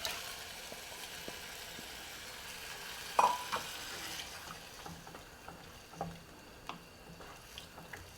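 Tomatoes go into a frying pan while cooking Persian Shirazi polo, giving a faint, steady low sizzle with scattered soft clicks and a sharper clatter midway.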